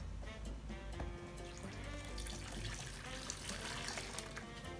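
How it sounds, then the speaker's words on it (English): Beef broth poured into a cooking pot, a steady liquid trickle and splash running continuously and fairly close with no talk. "We're going to go ahead and add all that beef broth."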